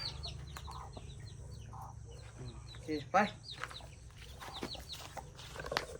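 A hen with newly hatched chicks on a home farm clucks softly while the chicks cheep in quick bursts, close by and moderately loud, with people talking over the birds throughout.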